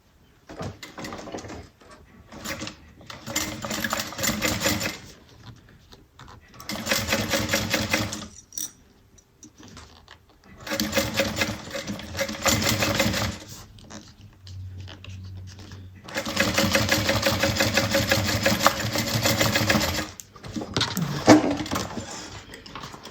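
A sewing machine stitches a bag seam in several separate runs of steady rapid clatter, each a few seconds long with short quiet gaps between them, heard close and moderately loud.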